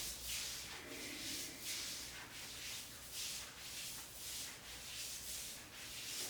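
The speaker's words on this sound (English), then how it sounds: "Rub up and down the arms 3 times each arm." Palms rubbing briskly up and down the arms during a breathwork routine, giving soft, rhythmic swishing strokes in a steady back-and-forth pattern, faint and close, with no voices.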